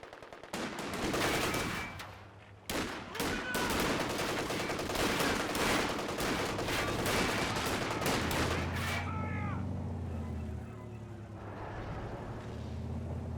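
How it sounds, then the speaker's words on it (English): Machine gun fire in Company of Heroes 2 during a 2v2 match: loud, dense bursts of rapid automatic shots, then quieter distant rumbling and faint battlefield sounds. "Nice machine gun position there, though."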